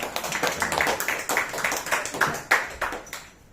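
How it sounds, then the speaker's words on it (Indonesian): A small audience at a business presentation claps in uneven bursts, individual hand claps standing out close and sharp as the applause rises and tapers off. "Oke, kita beri tepuk tangan untuk Bu Yuli."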